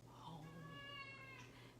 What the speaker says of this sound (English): That's my cat, Percy, who hardly ever appears.